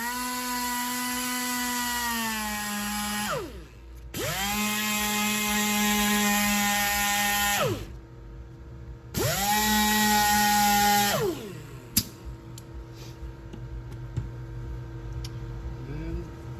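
A damaged black painted wheel is ground with 320 grit using a small power tool, heard as three sustained high whining runs, each dropping in pitch as it stops, followed by quieter handling clicks.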